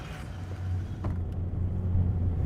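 A car drives along a road outside Karachi, heard from inside as a steady low engine and road rumble with a faint brief rattle, continuous and fairly close.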